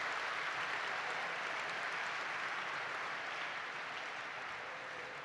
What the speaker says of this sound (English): One more big round of applause for Jim Kavanaugh.